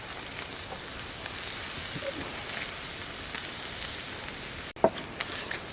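Steady sizzling of food frying in a pan, a constant crackling hiss with a brief clink partway through.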